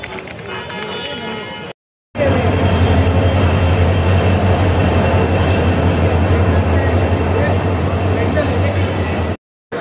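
Loud express train with ICF coaches passing close by, a continuous roaring rumble of wheels on rails with squealing and rhythmic clatter, sustained for most of the stretch with brief cutouts, and a voice speaking over it.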